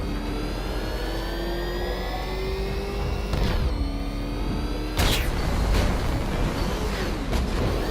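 Car engine in the Batman Arkham Knight video game, droning and revving in a steady whine with rising pitch, cut by a couple of sudden loud whooshing bursts.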